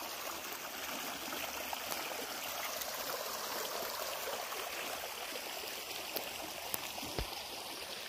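Faint, steady trickle and burble of a small forest stream flowing nearby, continuous and even with no voices.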